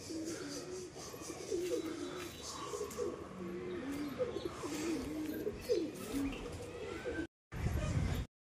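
Pigeons coo in repeated, throaty rolling phrases close at hand while a young pigeon makes its first flight with the flock, the cooing continuing steadily until a short cutoff near the end.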